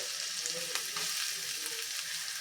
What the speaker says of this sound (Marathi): हे बघा हा मस्त तेलामध्ये परतून घ्यायचा म्हणजे त्याची चव खूप छान उतरते